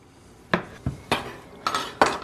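A knife halves brine-cured Kalamata olives on a cutting board, giving five sharp, separate chops at an uneven pace, close and crisp with quiet pauses between them.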